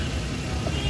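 A Suzuki Every runs at a steady idle just after a coil repair for a cylinder 2 misfire fault. The engine hum holds even over one brief moment.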